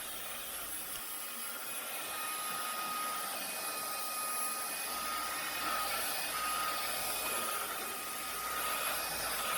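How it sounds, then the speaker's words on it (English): An Airzine robot vacuum cleaning a home floor, a steady whirring hum with a thin high whine, constant and close for the whole stretch, with no talk. "my Airzine robot vacuum because she just does the work herself and goes"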